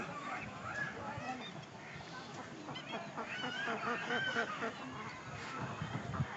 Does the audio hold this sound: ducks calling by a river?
yes